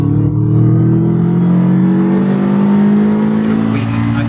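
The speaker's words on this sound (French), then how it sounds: "Là, on entend la double balle HKS. Là, on entend l'échappement." A Subaru with a twin HKS exhaust revving steadily, a loud, deep, sustained engine drone with a slowly rising pitch, heard close up while people talk over it.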